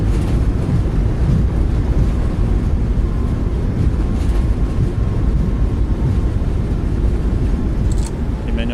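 Thrust reversers roaring on a Boeing 737 Max 8 during landing rollout in a flight simulator, a steady loud broadband rushing roar that holds for several seconds before easing slightly.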